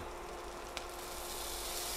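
Minced garlic, two cloves, sizzles quietly in chicken pan drippings, a steady soft crackling hiss with one brief click partway through and no voices.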